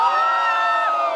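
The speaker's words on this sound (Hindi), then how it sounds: "वो चिल्ला के दिखाएंगे।" Wedding guests at a haldi function at the Taj in Goa shout and cheer together in one loud, sustained burst of crowd voices lasting about a second.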